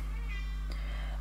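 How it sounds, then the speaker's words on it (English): A distressed cat lets out a strained meow, followed by a fainter second cry, over a loud, steady low hum. "Oh, this poor kitty, she's screaming."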